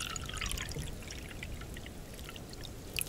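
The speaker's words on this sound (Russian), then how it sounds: "Отмеряем количество воды. Ну, чтобы лишнего не кипятить." Water poured in a steady stream into a pot or cup, measured out for boiling on a Fire Maple FMS X1 camping gas burner outdoors in a winter forest, close and continuous with a few bright splashes near the end.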